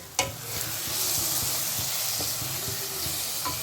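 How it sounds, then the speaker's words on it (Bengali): Spice masala fries in oil for a crab curry (kakra kosha), giving a continuous dense sizzle with soft scraping stir strokes and an occasional sharp clink. "দেখুন মশলাটা কিন্তু ভাজা ভাজা হয়ে গেছে।"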